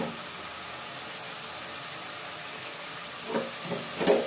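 Chicken masala gravy fries in a pan with a soft, steady sizzle and hiss, fairly faint throughout, with a few light clinks near the end.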